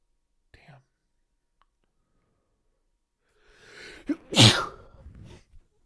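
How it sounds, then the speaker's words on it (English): A single loud sneeze near the end, preceded by a soft breathy intake and a brief earlier sniff in near silence. "I felt that sneeze coming, boys."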